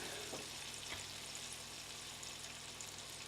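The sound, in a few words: butter and olive oil heating in a pan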